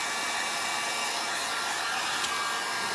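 A household hair dryer blows steadily for the whole span, a loud, constant broadband whoosh with a faint motor whine and no voices.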